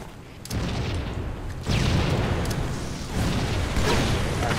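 A grenade going off in a multiplayer shooter, a few deep booming blasts with rumbling tails that each raise the noise level, heard alone without talk.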